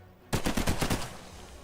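Sniper gunfire cracks out in the World War II strategy game Forgotten But Unbroken, a quick loud volley of about half a dozen shots in rapid succession that then trails off into a fading echo.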